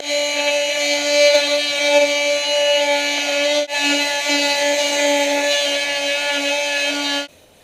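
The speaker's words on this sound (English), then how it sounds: "I take a power sander and sand with 80 grit paper" A power sander with 80 grit paper whines steadily and close by on an RC F-35 model plane, with one brief dip partway through before it cuts off.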